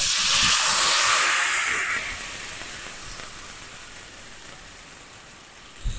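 Water splashes into a hot pan of fried onions, turmeric and salt on a village clay stove, letting out a loud, sharp hiss that gradually fades to a quieter steaming simmer.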